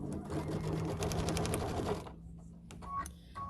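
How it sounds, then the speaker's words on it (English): A sewing machine stitches a seam on a quilted bathmat in a fast, steady mechanical whir for about two seconds, then stops. Faint clicks and handling noises follow. "We're just going to sew this seam."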